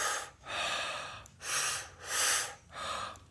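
Intense circular breathing in holotropic breathwork, with four loud, rhythmic breath cycles close to the microphone, each a harsh, airy rush separated by brief pauses.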